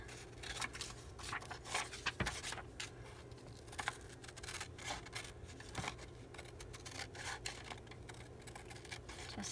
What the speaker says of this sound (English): I'm going to cut it just right outside the lines.